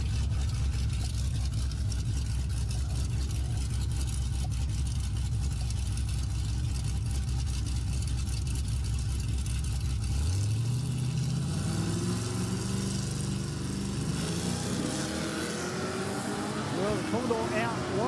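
Ford Ranger Raptor engine fitted with an aftermarket exhaust, a steady droning idle and run that then rises in pitch as it revs up and pulls away, loud and close with a buzzy, thin tone.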